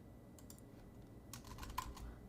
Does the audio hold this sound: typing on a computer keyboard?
yes